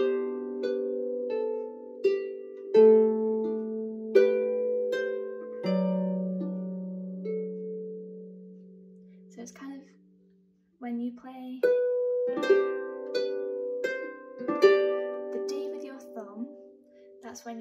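Plucked Manx harp plays the slow air Graih Foalsey freely, with ringing chords and single notes that sustain and fade in a loose, unhurried rhythm, close and solo, pausing briefly midway.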